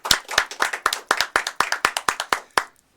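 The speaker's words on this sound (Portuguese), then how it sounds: "Quero agradecer já e pedir muitas palmas pro meu convidado, Rubão." A small audience claps for a guest on a talk show: a run of about fifteen crisp, separate hand claps in quick, slightly uneven rhythm, close and loud, stopping abruptly with no talk over them.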